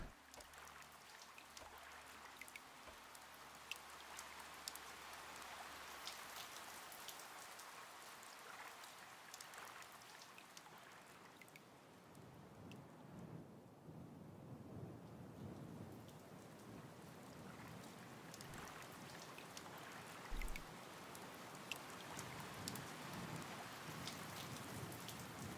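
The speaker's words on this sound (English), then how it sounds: "Oh, it's raining." Rain and thunder in the GodSIM video game: steady rainfall patters throughout while low rolls of thunder rumble now and then, with one sharper crack near the end.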